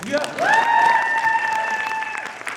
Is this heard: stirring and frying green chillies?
no